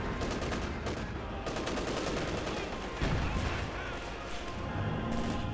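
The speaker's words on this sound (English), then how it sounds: "Grenades going off here, but a bit too late there." Rapid gunfire bursts and grenade blasts from a World War II strategy battle in Company of Heroes 2, a dense continuous barrage of overlapping shots and thumps at moderate level.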